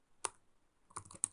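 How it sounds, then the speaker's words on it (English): A few quiet computer keyboard keystrokes, a single tap followed by a short quick cluster of clicks, close and isolated as a yum install command is typed on a Linux machine. "Yum install Oracle RDBMS"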